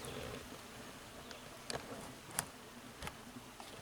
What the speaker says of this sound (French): Vous voyez les abeilles là qui s'intéressent fortement là.